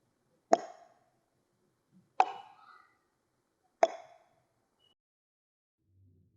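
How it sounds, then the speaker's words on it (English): Three sharp, isolated wet clicks of a monster's mouth in a horror story, evenly spaced about a second and a half apart against near silence, each decaying quickly. "That sound is the sound of a mouth clicking"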